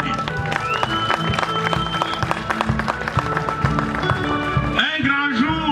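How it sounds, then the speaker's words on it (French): Crowd applause at a political rally for the Alliance des démocrates chrétiens du Congo: continuous dense clapping with crowd noise, tonal music or voices mixed in, and a pitch-sliding sound near the end. "On peut applaudir."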